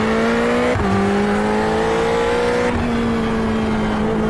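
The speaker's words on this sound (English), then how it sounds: "I say the different engine sounds mixing together as well." Several race car engines in iRacing at Spa-Francorchamps, including a Ferrari 488, roar and whine together at high revs, loud and continuous, with pitch shifting as gears change.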